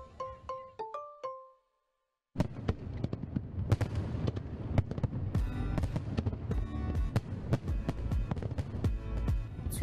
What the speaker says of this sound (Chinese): 璀璨的烟花划破夜空，烟花拍摄是夜景摄影的一种。